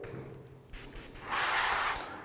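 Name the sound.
spray painting a Boba Fett helmet green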